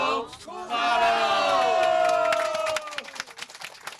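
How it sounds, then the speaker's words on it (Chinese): Passengers aboard a tour bus on a rainy day-trip in Kaohsiung break into a loud, rising collective cheer and shout, tapering into scattered clapping and chatter at the end. "就在全车人员欢呼声中，幸福区里一日游欢乐出发"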